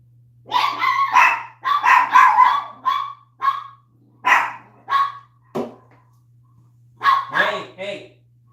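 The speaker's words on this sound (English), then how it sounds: "Sorry about that, my chihuahuas." Pet chihuahuas barking in bursts indoors, a string of loud, sharp yaps and yips with short pauses between volleys, close to the microphone.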